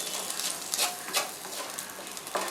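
Chicken fried rice with chicken pieces stir-fries in oil on a dosa griddle, giving a steady loud close sizzle with brief scraping stirs and soft patter throughout.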